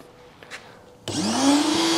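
A vacuum cleaner switches on abruptly after a second of quiet, then roars steadily and loudly while sucking metal chips out of engine head bolt holes on a Kia/Hyundai engine, its motor pitch rising as it spins up.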